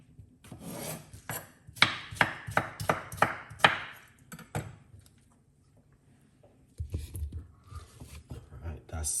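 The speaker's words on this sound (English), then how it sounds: "we're going to put some cucumber, fresh organic cucumber inside of it" Fresh organic cucumber being handled and dropped into a container, with a quick run of crisp chopping or rubbing strokes, then a pause and a few more close knocks, while a voice talks over parts of it.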